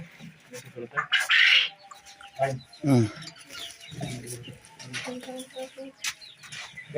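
Chickens clucking and squawking nearby on a farm keeping native and foreign breeds of fowl and birds, a few loud bursts amid ongoing fowl chatter, with people talking in the background.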